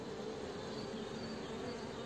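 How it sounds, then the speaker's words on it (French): Honey bees buzz at a queen-rearing hive with few bees on the comb, a steady, close, even hum of wings throughout with no talking. "il y a extrêmement peu d'abeilles"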